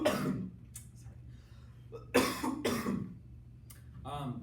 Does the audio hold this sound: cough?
yes